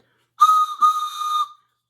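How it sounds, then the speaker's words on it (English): A loud toy train whistle blows twice in quick succession, a breathy steady tone, the second blast longer, then silence. "I brought my whistle."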